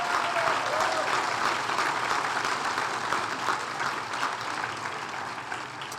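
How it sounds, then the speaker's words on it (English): An audience at a regional chamber ATHENA Award ceremony applauds the first group of nominees, with steady, dense clapping throughout that slowly tapers off toward the end. "Can I please have a round of applause for our first group of nominees?"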